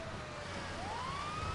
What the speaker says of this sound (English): nothing suspicious about a bearcat running lights and sirens